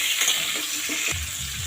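Hog plum chutney sizzling and frying in a pan while being stirred, a steady bright crackle throughout with soft scraping strokes of the spoon underneath, no voices.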